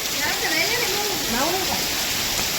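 Heavy rain pours during a red alert in Ahmedabad, a steady close hiss that fills the whole moment while a voice-like wavering tone rises and falls over it.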